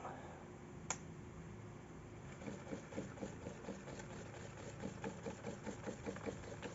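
A homemade magnetic stirrer spinning water in a closed container gives a faint, low motor hum with a steady rhythmic pulsing, preceded by a single click as it switches on.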